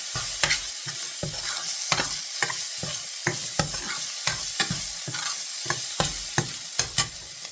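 Boiled vegetables for pav bhaji are mashed in a pan, with a quick run of soft squelching presses and scrapes under a steady background sizzle, close up and with no talking.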